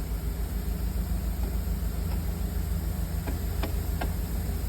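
A Ford F150 engine runs steadily nearby while the transmission is shifted through its gears, a constant low idling rumble with a few faint clicks and a high electrical whine.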